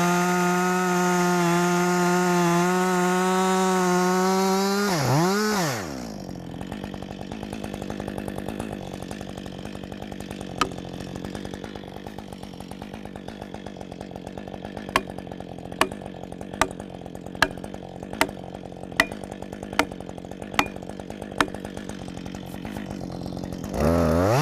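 A chainsaw revs loudly and steadily as it cuts into a tree. The engine then drops to a lower, labored bog and rattles through the cut, with sharp clicks near the end.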